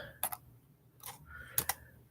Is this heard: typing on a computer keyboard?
yes